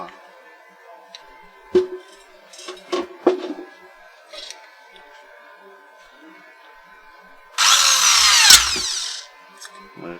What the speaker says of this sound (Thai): เราก็จะเจาะรูเอามันออกมา